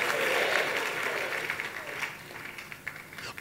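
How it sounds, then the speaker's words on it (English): Hands clap across a church congregation in a dense, even patter that gradually thins and fades, with voices heard calling out over the clapping. "Can you clap your hands and say, I'm saved?"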